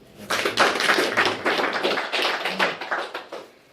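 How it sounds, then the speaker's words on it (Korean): A small group at a meeting claps to welcome a newcomer, giving steady, fairly dense hand claps that run close and moderately loud for the whole stretch, with no talking over them. "박수로 좀 환영하면 좋겠어요"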